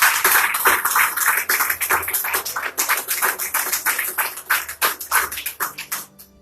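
A church congregation breaks into dense, sustained applause, many hands clapping together at close range and holding steady for several seconds before thinning out toward the end.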